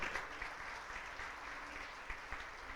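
A church congregation claps together in a steady, dense wash of applause that holds at an even, moderately distant level for a few seconds.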